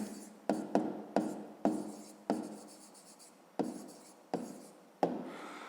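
Pen strokes scratch across paper while a fifth-grade math problem is worked out, a steady run of brisk scribbles with sharp starts and small pauses, close and clear with no talk over them.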